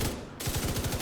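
Rapid automatic weapon fire in the shooter game The Division 2, one loud, fast, continuous rattling burst that is close and fills the whole short moment.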